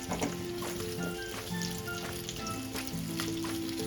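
Kaap slices roast in ghee in a pan. A steady, crackling sizzle runs close and continuous throughout, with faint tonal hum beneath.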